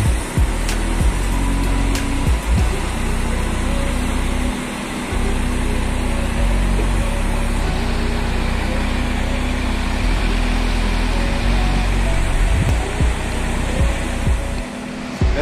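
A Volvo B11R bus engine of 430 horsepower with an iShift transmission, rumbling steadily and loudly at close range throughout, with a low droning hum and shifting tonal layers.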